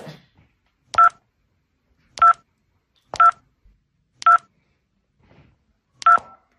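Mobile phone keypad tones: five short, evenly spaced dialing beeps, clear and close, with silence between them and no talk.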